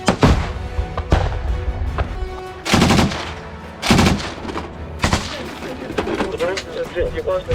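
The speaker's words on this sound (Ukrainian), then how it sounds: "Постріл!" Several loud, sharp gunshots crack out at irregular intervals, with bursts of rapid fire in between and faint voices underneath.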